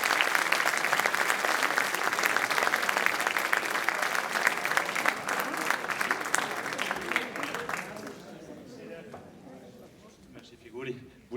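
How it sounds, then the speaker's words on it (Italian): A theatre audience at Teatro Vivaldi breaks into warm, sustained applause that gradually thins and fades out after about eight seconds, with voices and room noise emerging as the clapping dies away. "Lo accogliamo con un applauso."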